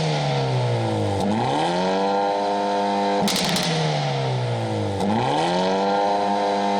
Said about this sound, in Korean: 팝콘 같은 엔진음 소리입니다.